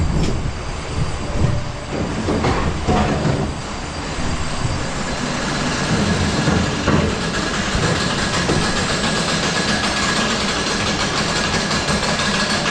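A Eurofighter roller coaster, Dare Devil Dive at Six Flags Over Georgia, roars continuously from the back seat, with loud rushing wind, rumbling track noise and occasional squealing wheels throughout, and no talking.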